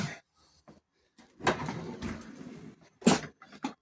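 Wooden drawers in a camper or motorhome interior are pulled open and pushed shut several times, producing a series of close, uneven knocks and sliding thuds with quiet gaps between them.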